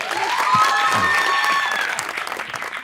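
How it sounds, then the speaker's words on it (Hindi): Studio audience at a TV show applauds loudly and continuously, dense close clapping with some crowd murmur and a voice briefly audible underneath. "तालियां जी, तालियां"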